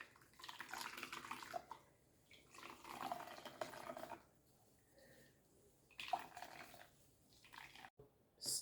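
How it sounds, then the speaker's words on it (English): Liquid splashes and trickles as a fruit sack is squeezed over a container in a kitchen while making Jamaican rice and peas, coming in faint irregular bursts of running and dripping with quiet gaps between them. "And I squeeze the excess, and there's always a lot."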